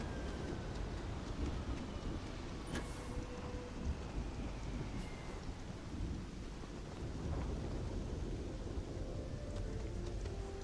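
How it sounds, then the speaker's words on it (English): Thunderstorm with rain in the video game Starfield: a low, continuous rumble of thunder under a steady wash of rainfall, fairly quiet and distant-sounding, with no voices. "it's a storm."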